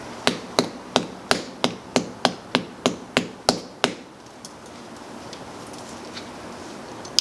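A small hammer strikes about a dozen times in a steady, quick rhythm during a Chamberlain garage door opener installation. The taps are sharp and close, and quiet follows afterward.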